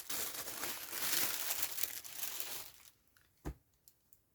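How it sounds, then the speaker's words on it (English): Tissue paper wrapping around delicate fabric rustles and crinkles close by in a busy burst, then settles into quieter scattered crackles and one sharp crumple near the end. "I have like destroyed the tissue to try and have a look at it. Apologies for the rustling."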